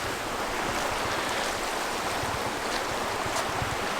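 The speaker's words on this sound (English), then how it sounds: "A little stream back here." A small stream flows behind a cabin in North Carolina woods, a steady broad rushing hiss of water that is continuous and moderately close, with no voices.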